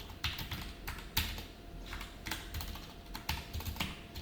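Typing on a computer keyboard while coding JavaScript, with irregular bursts of close, clicky keystrokes and short pauses between runs, no talking.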